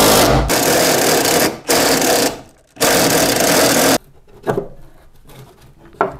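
A power drill whirs loudly in three long bursts as it bores through wooden wall studs behind drywall, followed by quieter knocks and scraping.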